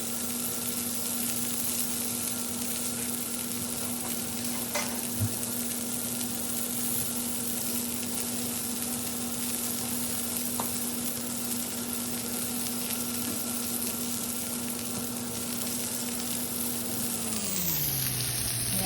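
Chicken breast pan-sears in a frying pan, a steady bright sizzle that holds evenly for many seconds beneath a constant hum, with a couple of faint clicks and no talk.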